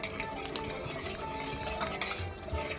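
Warm milk mixed with powdered milk is stirred for Gobindobhog rice payesh, a steady spoon-scraping swirl with light clinks against the pot, close and continuous for a few seconds.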